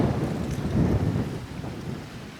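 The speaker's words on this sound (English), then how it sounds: "oh, it's getting a bit windy" Gusty wind blows across an outdoor farm in Portugal, buffeting the microphone as a continuous low roar that swells and eases over a couple of seconds.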